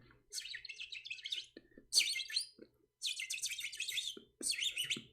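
Cartoon-style bird chirps signalling dizziness, bright rapid tweeting in four bursts with short gaps between them, fairly loud and alone with no talk.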